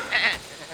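A sheep gives a single short, loud bleat close by, part of an animated shepherd adventure, followed by a quieter pause.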